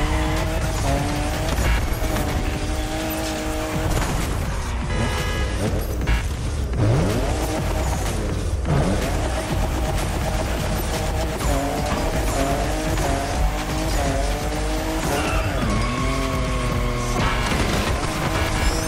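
A Toyota Supra 349 hp, the fifth-generation model, driven in The Crew Motorfest on PS5: loud continuous engine roar rising and falling through gear shifts, with tire squeal and skidding over a busy game soundtrack.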